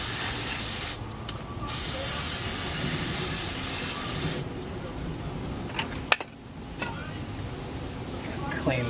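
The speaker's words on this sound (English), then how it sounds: "I'm going to spray it in with some brake part cleaner" Brake parts cleaner sprayed from an aerosol can onto a 2011 Subaru Impreza engine part during a timing belt job, a loud close hiss broken by short pauses, with a few clicks and knocks after it.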